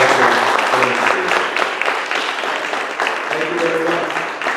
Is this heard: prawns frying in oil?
no